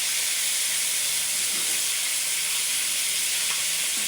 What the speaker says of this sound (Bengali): আপনারা এভাবে বয়লা মুরগিগুলো ভেজে নিন